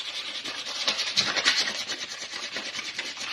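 Abrasive scuffing on an old bicycle frame, close-up rhythmic rubbing strokes in quick uneven bursts as the surface is roughed up for a scuff finish, with no voices.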